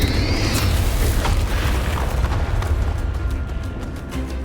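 Confringo fire spell blasting in the video game Hogwarts Legacy, a loud sustained rumbling explosion that roars for a few seconds and slowly thins out, with no talking over it.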